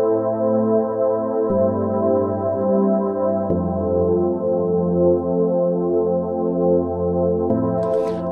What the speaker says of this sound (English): created some big long chords which sound like this